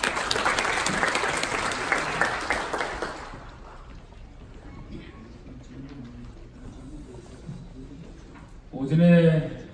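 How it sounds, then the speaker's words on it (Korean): Hall audience at an international insect symposium claps loudly for a speaker for about three seconds, then the applause fades into quiet room murmur before a brief loud handling noise near the end. "큰 박수로 맞아주시기 바랍니다."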